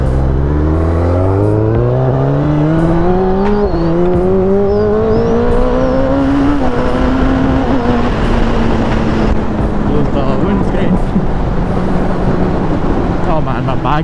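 A Kawasaki Ninja ZX-10R sportbike is ridden in traffic to warm its tires. The engine is loud and close, climbing steadily in pitch through several gear changes over constant wind rush.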